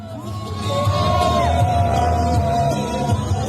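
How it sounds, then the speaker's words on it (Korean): Waiting citizens applaud and cheer outside the presidential residence as the arrest team pulls out after an arrest warrant is executed, a dense crowd roar with shouts and whoops and a whistle-like tone carrying over it. "그때 또 기다리던 시민들이 박수 쳐주는 장면, 체포조가 빠져나가는 장면이에요"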